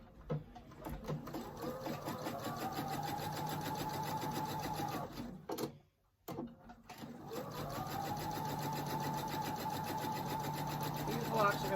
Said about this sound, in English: I'm going to sew these together real quick